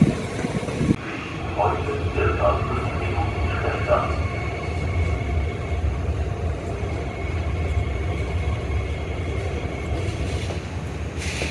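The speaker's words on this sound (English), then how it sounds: "Here's our train." A train rolls into a station in a German city with a sustained low rumble and rising rail noise, close and loud, with brief voices near the start.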